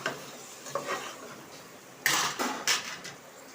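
Vegetables sautéing in a pan sizzle softly while a spoon stirs and scrapes in a few quick strokes, with louder scraping bursts near the end and no talking.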